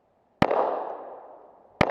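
Two sharp, loud pistol shots from a Kahr CW9 9mm, spaced about a second and a half apart. The first crack leaves a long, bright ringing tail before the second shot cuts in.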